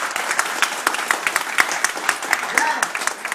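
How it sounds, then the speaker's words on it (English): Scattered applause for retiring postal workers at a farewell gathering, a modest room of hands clapping in uneven bursts with murmured voices mixed in. "I applaud you at this time"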